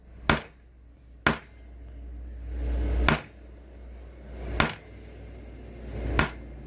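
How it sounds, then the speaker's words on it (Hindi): A hammer strikes a bush into place in a cooler motor during repair, five sharp metallic knocks spaced about a second or more apart, close and clear against quiet. "जैसे जितनी आती है उतना ठोक लेना है"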